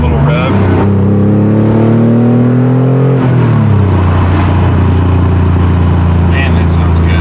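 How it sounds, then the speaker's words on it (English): A Porsche 911 engine revs up close, its loud throaty drone climbing in pitch for a couple of seconds, then dropping back to a steady rumbling idle. "Drop it in a second, a little rev."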